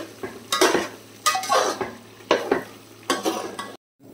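Ginger garlic paste frying in a pan for chicken pickle, stirred in about four close, rhythmic bursts of sizzle and scraping, with a brief cut to silence at the end.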